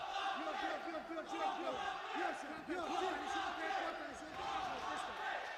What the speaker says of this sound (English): You can hear the Tajiki crowd, the fans, the teammates cheering on Otabek.